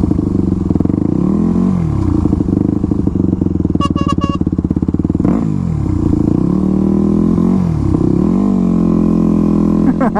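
A motorcycle revs loudly in freeway traffic, its engine close and continuous with rising and falling pitch sweeps as it accelerates and eases off, and a brief higher-pitched chirp partway through.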